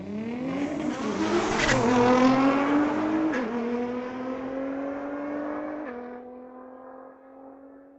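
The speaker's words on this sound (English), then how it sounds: "GTR running through it in 1096, 130 miles an hour" A Nissan GT-R makes a street-legal drag run at Mission Raceway Park, its engine roaring loudly as it accelerates hard down the strip, climbing through gear changes with sharp shift breaks before the sound fades into the distance.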